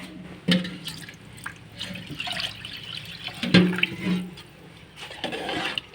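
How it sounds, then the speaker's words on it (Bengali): Water is poured into a pot of biryani in a home kitchen, a splashing, gurgling flow with a couple of sharper spurts near the start and middle, fairly close and alone. "এখন পরিমাণ মতো পানিগুলা দিয়ে দিব।"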